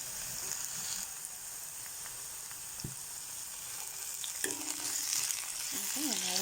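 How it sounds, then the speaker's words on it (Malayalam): Tomatoes and onions fry in a pan for a sardine curry, giving a steady, close sizzle that hisses evenly throughout, with a faint stir or clink near the end. "അതിലേക്ക് തക്കാളി ഇട്ട് കൊടുക്കാം."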